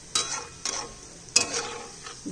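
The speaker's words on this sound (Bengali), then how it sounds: "এইভাবে সমস্ত বড়াগুলো ভেজে নিচ্ছি।" Palm fritters (tal bora) fry in oil with a soft sizzle underneath, while three sharp scraping stirs of a spatula land about half a second to a second apart.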